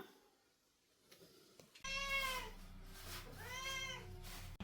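After a quiet stretch with faint rustles, a cat nearby gives two clear, drawn-out meows in a kitchen where kera fish is being pickled.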